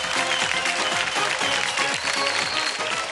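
On a Dance India Dance TV episode, an audience applauds the Parampara dance group. Steady, full clapping carries on while music with sliding tones plays underneath.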